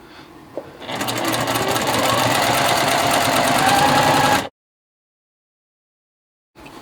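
A sewing machine stitches quilt block rows together for a star puzzle quilt block in one steady, loud, rapid mechanical run of about three and a half seconds, then stops abruptly into silence.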